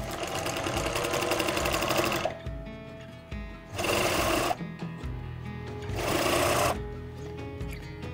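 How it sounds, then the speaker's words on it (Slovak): A sewing machine stitches a trouser hem in three loud, rapid bursts of needle chatter separated by short pauses, close and alone. "Začnem šiť, dám si dole ihlu a šijem."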